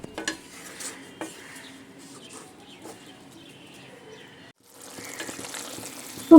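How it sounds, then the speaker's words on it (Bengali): A spoon stirs a bean paturi mixture with spices in a pot during Bengali vegetarian cooking, giving soft scraping and clinks of utensil against metal, close and fairly quiet, with a few sharper knocks. "এবার আমি খুব ভালো করে এটা নেড়ে দেব।"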